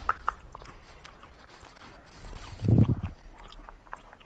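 Someone chews food that may be doughy, with soft wet crunching and biting close to the microphone amid background noise, loudest in a brief burst near the end.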